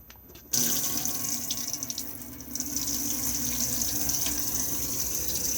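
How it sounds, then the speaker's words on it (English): In a 2021 Elddis Majestic 120 caravan, water starts gushing from a tap as the pump runs, a steady close hiss of flowing water that continues without pause. "We have water pump on and off just here."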